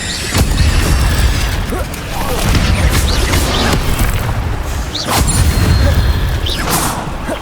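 Incendio fire spells cast repeatedly in Hogwarts Legacy combat, loud whooshing bursts with booming impacts arriving in waves about every two to three seconds amid other battle noise.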